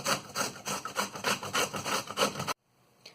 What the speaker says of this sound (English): let's start with grating mango first